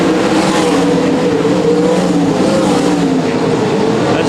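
The number 47 limited sprint car's engine is wound up hard on a race track, a loud, sustained, droning roar that holds steady with no break and no voices.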